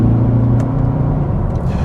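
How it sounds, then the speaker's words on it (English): A loud, deep 6.2-litre V8 engine of a Mercedes W204 C63 AMG rumbles steadily, its pitch holding and then dropping slightly as if shifting gears, with a brief higher whine near the end. "Oh, those gear shifts."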